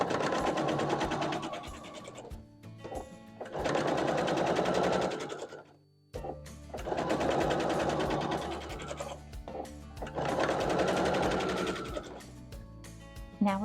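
A sewing machine stitches quilt acorn stems onto the sides of large acorn blocks in bursts of rapid, close, loud running, separated by short pauses, with no talking.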